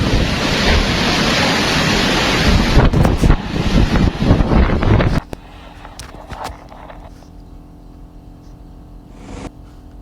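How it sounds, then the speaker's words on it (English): Strong storm wind roars loudly and continuously for about five seconds, with heavy gusting and buffeting noise, then drops to a quieter, steadier rush with a few brief knocks and a late surge. "you need to realize how strong that wind is for it to be moving a bridge like that"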